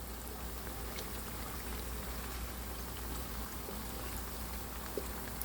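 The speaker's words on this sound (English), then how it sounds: "we are frying some samosas" Steady dense crackling and sizzling of samosas frying in hot oil, continuous and close, with no voices.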